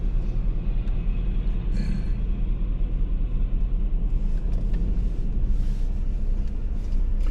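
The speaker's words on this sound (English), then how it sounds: "Right next to me is one of these big red buses." A big red London double-decker bus rumbles past near Nelson's Column, its deep engine drone loud and steady and close throughout, with faint hissy traffic noise above and no voices.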